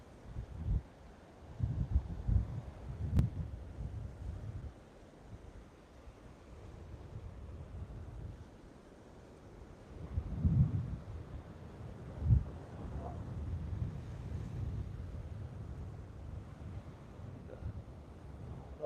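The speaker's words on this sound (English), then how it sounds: "Oh, it's really windy." Gusty wind buffets the microphone in a low rumble on Sanibel beach, with a few stronger gusts and faint surf washing in the background.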